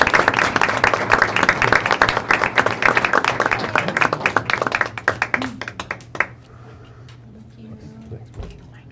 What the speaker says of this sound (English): So a round of applause for these great people,